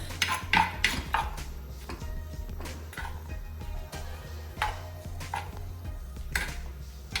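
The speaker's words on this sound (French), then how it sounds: "on va faire pénétrer l'oignon et les condiments qu'on a mis et le faire revenir" A utensil scrapes and taps steadily in a pan as onion and seasonings are sautéed and stirred for a chicken tajine, with light clinks over a low continuous hum and no talking.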